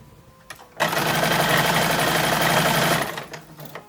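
A sewing machine stitches toddler summer dress bodice pieces together in one loud, close, continuous run of about two seconds, with a brief lead-in and softer handling sounds after it stops.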